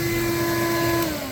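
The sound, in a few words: vacuum cleaner trying to suck out a BMW wheel center cap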